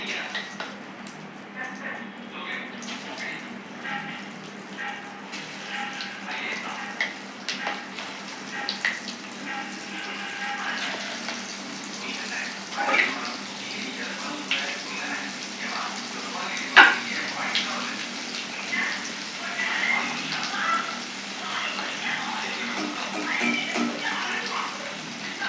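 Fish fries in hot oil for Tirunelveli meen varuval, a continuous close crackling sizzle with scattered pops and stirring, under moderate background noise throughout.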